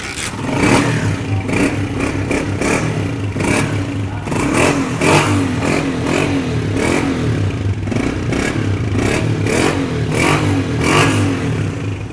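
A Honda CG 125 self-start motorcycle engine runs loudly and close in winter, a rough clattering idle with repeated bursts of revving throughout.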